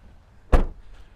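Car door of a 2027 Kia EV2 SR compact SUV swinging shut in one solid, close thud, a single sharp impact that fades quickly into quiet.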